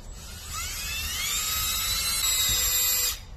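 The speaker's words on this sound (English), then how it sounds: "If you use a wire brush like me here, make sure it's the softer one, the small strand, softer one." A drill-mounted wire brush spins against a Toyota 2TZ-FE cylinder head, a loud, sustained high whine that rises slightly in pitch and stops abruptly after about three seconds.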